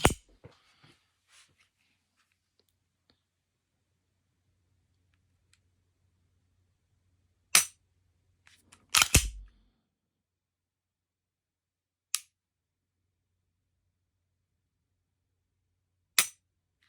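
Sharp, isolated trigger clicks from a handgun during dry fire practice, four or five crisp snaps spaced several seconds apart with long quiet gaps, close and fairly loud, with a faint low hum in between.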